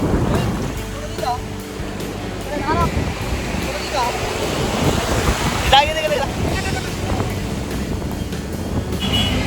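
Surf rolls onto a beach in steady washes while wind buffets the microphone, with scattered voices and a few faint animal-like calls mixed into the background.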